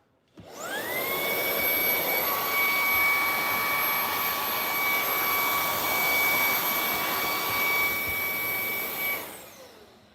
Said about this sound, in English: Got my Ryobi vacuum here. Apology for the noise for a second.